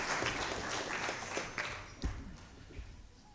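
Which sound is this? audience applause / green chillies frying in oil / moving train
audience applause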